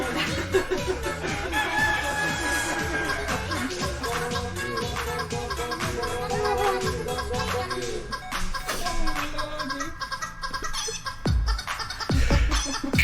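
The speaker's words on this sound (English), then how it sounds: "God damn chicken noises!" A chicken clucking alert sound effect plays during a livestream, with repeated hen clucks and crowing-like calls over a busy background, loud and continuous.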